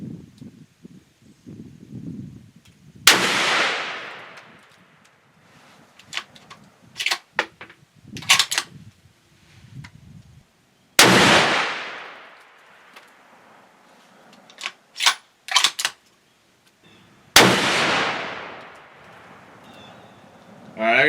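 A Seekins Havak Pro Hunter rifle fired outdoors: three loud, sharp shots spaced several seconds apart, each ringing out in a long decaying echo, with quieter clicks and handling noise between them.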